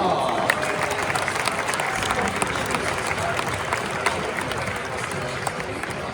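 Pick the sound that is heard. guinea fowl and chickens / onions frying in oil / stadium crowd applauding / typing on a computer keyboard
stadium crowd applauding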